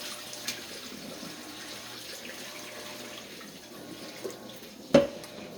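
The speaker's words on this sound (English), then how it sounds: "pour off the hot water guys" Hot water poured off salt mackerel in a home kitchen while cooking a Jamaican breakfast, a soft steady trickle and splash of liquid with a brief louder splash near the end.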